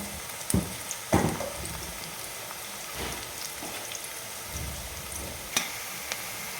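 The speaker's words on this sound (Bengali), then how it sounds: "পেঁয়াজটা একটু ভালো করে ভাজতে দিয়েছি" Onions frying in a pan with a soft, steady sizzle, broken by a few sharp clatters and scrapes of a spoon stirring.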